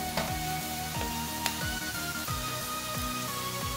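Onions and diced carrot sauté in oil in a pan, giving a steady close sizzle with soft stirring scrapes and small crackles throughout.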